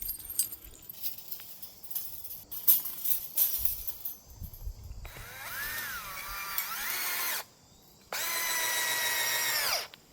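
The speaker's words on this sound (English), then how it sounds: "screw in some screws" A power drill drives screws into a hog panel pig pen, with two long, loud whining bursts of the motor after some clinking and handling of metal parts.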